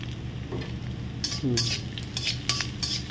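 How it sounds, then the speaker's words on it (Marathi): Green chillies are stirred in oil in a metal pan, with soft scraping and clinking of a utensil against the pan over a low sizzle, a few sharper clinks toward the end. "तेलात खालीवरी करून घ्यायचं मिरच्याला"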